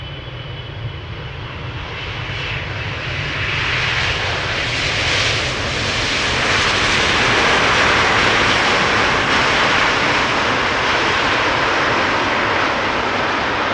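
A fixed-wing airliner lands at Amsterdam Schiphol Airport, its engine roar steady and loud throughout, broadband and rising slightly in the middle before holding strong to the end.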